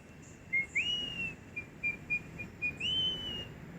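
A man imitates a black hawk eagle by whistling. Several sharp, high whistles, some sweeping upward and some short, come in an uneven sequence. They sound fairly near and clear, with no talking.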